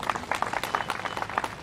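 Crowd clapping at an Odisha election campaign rally, a brief, uneven burst of scattered hand claps without speech.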